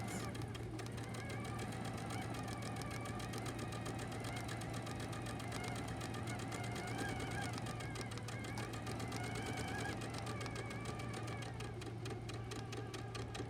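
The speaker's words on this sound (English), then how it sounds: "now I'm going to sew on these 2 lines" A sewing machine stitches two seam lines on a quilt piece with a steady, rapid mechanical chatter. A constant low hum sits underneath, and the machine runs continuously at a moderate level.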